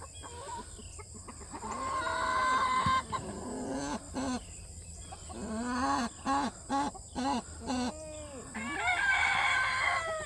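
A mama turkey chases down an older turkey amid a flock of poultry, with repeated loud, harsh gobbling and squawking calls in bursts close by, alongside a rooster-like crow and clucking, and no talk.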